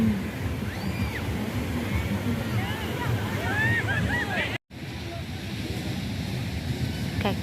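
Sea waves wash continuously against Lampuuk Beach in Aceh, a cliff-lined shore at high tide. Wind rushes across the microphone, with faint high chirping voices in the background and a brief dropout midway.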